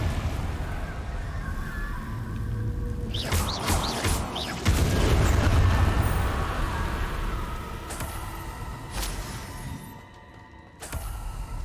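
A Confringo spell in a wizarding world video game erupts in a loud blast with a rumbling crackle, among smaller pops and whooshes of nearby spell effects.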